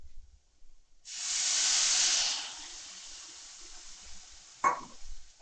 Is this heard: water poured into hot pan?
yes